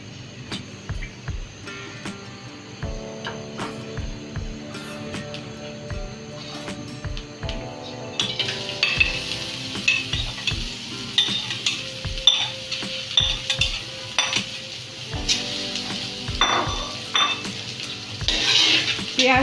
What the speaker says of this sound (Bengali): এখন আমরা একটা বড় কড়াই নিয়ে নিচ্ছি, এর মধ্যে তেল দিয়ে দিচ্ছি